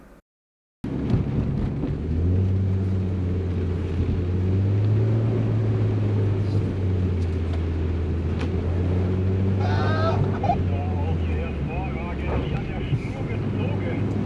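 A Nissan 200 SX S14 drifts on a training ground, its engine droning loud and steady with shifting pitch and wind buffeting the microphone throughout.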